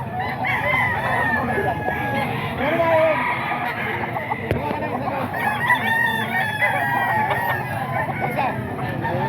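Young roosters at a gamefowl farm crow and cluck loudly and close by, several calls overlapping over a constant farmyard background, with people talking in between.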